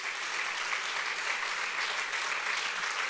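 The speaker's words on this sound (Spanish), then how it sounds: "Aplauda fuerte la grandeza de nuestro Dios." A church congregation at a Spanish-language service claps in a steady, dense burst of applause, moderately loud and unbroken, with no talking over it.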